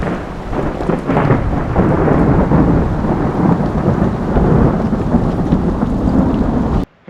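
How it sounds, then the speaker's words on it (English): Heavy rolling thunder during a storm on a hiking trail to the Citadel Ruins, a continuous loud rumble blended with rain that holds steady for about seven seconds before cutting off abruptly. "Thunder."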